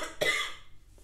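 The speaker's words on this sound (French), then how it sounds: "Je tousse beaucoup moins et beaucoup moins gras." A single harsh cough from someone with bronchitis, a sharp burst followed by a fading tail, close and alone in a quiet room.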